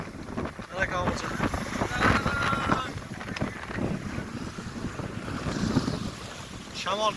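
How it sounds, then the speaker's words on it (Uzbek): Strong wind by the seashore buffets the microphone in continuous heavy gusts, with surf washing nearby and voices talking intermittently over it. "Dengizni qirg'og'iga o'ta kuchaydi shamol."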